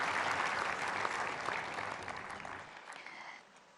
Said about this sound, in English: Let's have a big round of applause for all the awardees today